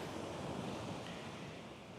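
Ocean surf rolls steadily onto the beach at Bangui before sunrise, a continuous broad wash of waves with some wind noise and no voices.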